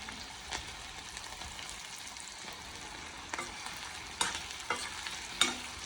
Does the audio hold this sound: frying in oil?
yes